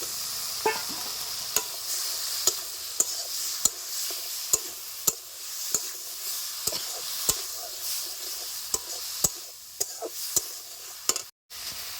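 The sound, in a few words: stir-frying chopped brinjal with spices for fish curry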